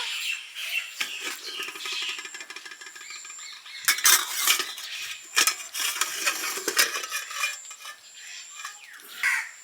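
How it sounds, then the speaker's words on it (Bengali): Metal lid and utensils clinking and scraping against a pot of dum-cooked meat biryani as it is opened and stirred, close and moderately loud, irregular clanks and rattles with birds squawking faintly in the background. "বিরিয়ানি দম মারা হয়ে গেছে এবার খুলে দেখবো"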